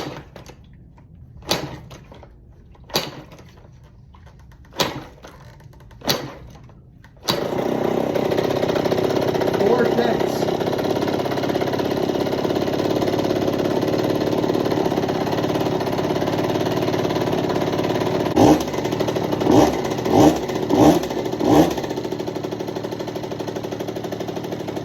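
A Cobra CX50 motorcycle with the choke on is kicked over several times with sharp mechanical thumps, then fires into a loud, steady, buzzy idle, with a few quick revs rising above it near the end.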